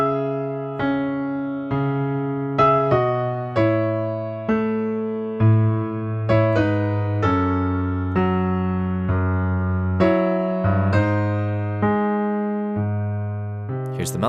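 Piano playing the main riff of a song, a repeating pattern of clear, struck chords and notes in an even rhythm, heard close and alone.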